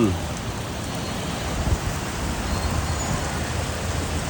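Heavy rain pours steadily in Vizhinjam, a dense continuous hiss of water on surfaces with no breaks, close and fairly loud throughout.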